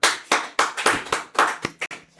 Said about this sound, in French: applaudissez pour Deli Pouchio